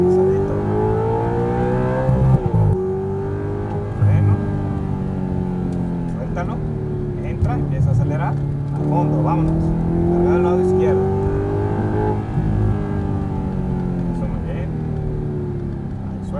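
An exotic sports car accelerates at full throttle, its engine note climbing and falling through repeated revving sweeps, loud and close from inside, with a driving instructor's voice talking over the engine.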